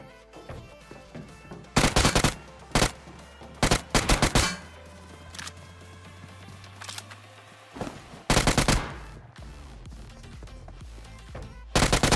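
Gunfire in PUBG Mobile during a solo-versus-squad fight: several loud, sharp bursts of automatic fire come in separate clusters, with quieter stretches and a low hum between them.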